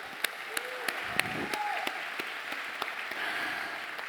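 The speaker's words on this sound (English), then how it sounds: "Let's give another round of applause for David Parnell" Audience applause at a recovery event, a steady dense wash of clapping at moderate distance with a few sharper individual claps standing out, continuous for several seconds with no talking.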